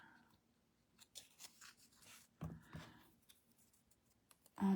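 Scissors snip through a paper sticker in a few short, dry cuts with pauses between, followed by a louder close rustle of the paper at the end; no one speaks.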